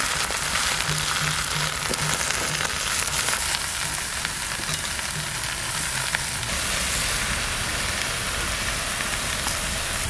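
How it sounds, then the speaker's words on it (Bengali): Wild taro leaves hit a pan of lightly fried green chillies in a village kitchen, giving a continuous, even sizzle that stays steady and fairly loud throughout. "একটু ভাজা ভাজা করে নিলাম এবার কচু শাকটা দিয়ে"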